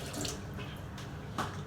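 Water runs softly while something is washed in a home kitchen as mung beans are cooked. It makes a faint, continuous splashing with a few brief louder sloshes.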